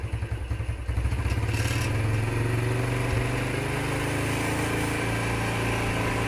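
Motorcycle engine being revved hard with the throttle while its turn-signal switch and lights are tested, a steady loud droning roar after a brief uneven start, close and continuous with no talk.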